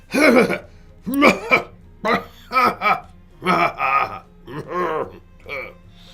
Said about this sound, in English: After loudly and repeatedly clearing his throat